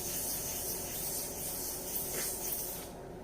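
Wet sanding of a sealed concrete countertop with light pressure gives a steady, close, soft hissing rub that runs evenly and then tapers off near the end.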